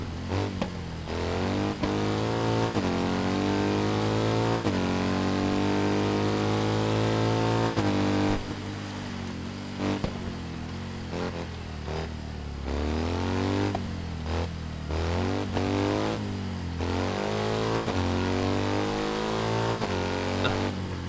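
Old motorcycles in the racing game Ride 3, their engines revving loud and steady throughout with repeated rising and falling pitch sweeps as they accelerate and shift, and no talk over them.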